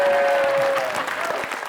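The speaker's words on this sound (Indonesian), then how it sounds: "Tepuk tangan buat Umi yang lucu." Studio audience on a Take Me Out Indonesia dating show breaks into loud, close applause for a contestant, a steady wash of clapping with a faint voice near the start.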